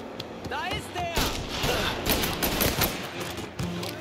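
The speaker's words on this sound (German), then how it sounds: "der Revolver ist doch gar nicht so schlecht. Vor allem schießt der richtig schnell." Revolver shots and scattered gunfire in the video game Mafia: Definitive Edition, a dense, busy burst of cracks amid game noise, with someone speaking over it throughout.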